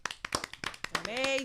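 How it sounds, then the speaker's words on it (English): An audience claps with a quick run of sharp hand claps at a morning show, fairly close, and a voice begins speaking over the final claps. "Clap for Harvey one more time"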